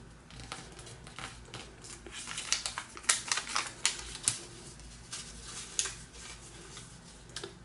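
Paper folded by hand for an origami French flag, giving soft crinkles and sharp creasing snaps that come in irregular bursts, quiet and close with no talking.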